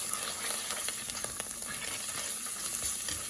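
Turmeric, ginger powder and salt frying in a pan while being stirred, a steady moderate sizzle with repeated light scraping strokes, no talking.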